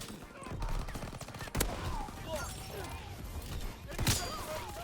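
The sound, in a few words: gunshots in Modern Warfare multiplayer, video game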